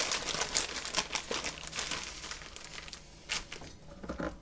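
A plastic Ziploc-style bag holding a Birchwood Casey lead remover and polishing cloth crinkles and crackles in close, irregular bursts, with sharper rustling spikes scattered through an otherwise steady handling noise.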